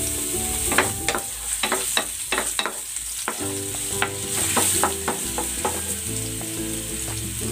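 Ginger sautés in hot cooking oil, a steady close sizzle broken by repeated scraping, clacking stirs of a utensil against the pan.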